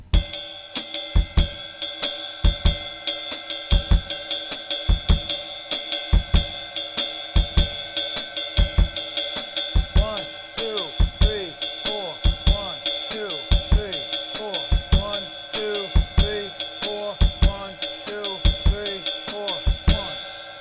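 A drum set plays a West African groove at a moderate tempo: steady, evenly spaced low kick thumps under busy cymbal and stick hits, with added toms joining midway, loud and close, no talking.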